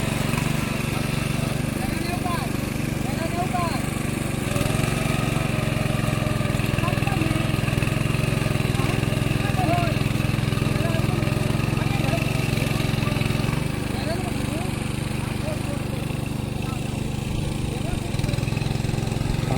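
A tractor engine runs steadily at close range, a mid-pitched drone rising and falling slightly, with people talking over it, during the first monsoon ploughing of a field in Konkan.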